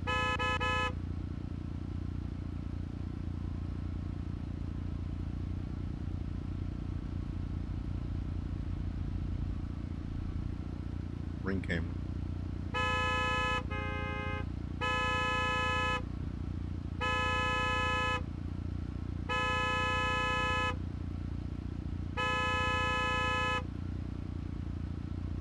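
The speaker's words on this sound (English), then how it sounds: "Oh, we just having a honk fest" Repeated car horn blasts in BeamNG.Drive, the driving game, sounding in several long honks of about a second each, steady and fairly loud over a constant low engine drone, with no talking.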